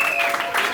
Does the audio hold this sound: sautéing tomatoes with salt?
no